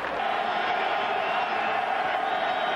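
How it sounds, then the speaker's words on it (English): Football crowd at Bronco Stadium during a college bowl game roars steadily, a broad sustained wash of cheering voices with scattered whoops, loud and unbroken. "Crowd starting to come alive here at Bronco Stadium"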